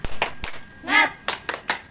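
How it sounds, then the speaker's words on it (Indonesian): A scout group claps the rhythmic 'tepuk semangat' cheer, a few sharp clean claps in a quick patterned beat with a short shouted word in the middle, loud and close. "Tepuk semangat."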